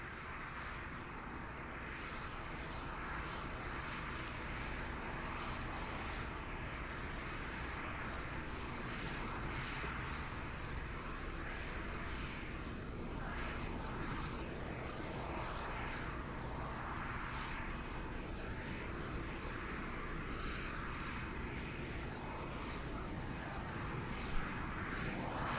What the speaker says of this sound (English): The shuttle carrier aircraft, the modified 747, has 4 Pratt & Whitney gas turbine engines